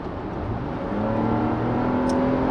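A 2016 Lexus RX450h hybrid engine revs toward its early redline near 5500 rpm, a steady rising drone that swells louder partway through and holds, heard from inside the car.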